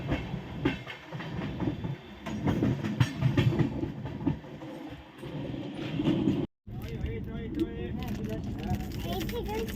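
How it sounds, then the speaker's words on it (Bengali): The Howrah to Raipur mail train rolls along at night with a steady rumbling clatter of wheels on rails, heard from inside the carriage, with voices talking over it and a brief cut partway through. "বাকি ট্রেন আস্তে আস্তে আমাদের যাচ্ছে"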